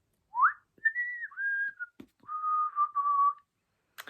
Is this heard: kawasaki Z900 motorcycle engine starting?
no